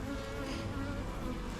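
Honeybees buzzing around beehive frames during hive work outdoors, a dense continuous drone of many bees, close and steady with no talk.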